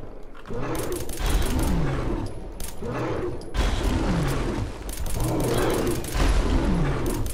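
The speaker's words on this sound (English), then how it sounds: "Opening fire!" Gunfire rings out in Fallout 4, loud bursts of shots rolling into one another over several seconds, with brief lulls between heavy volleys amid dense combat noise.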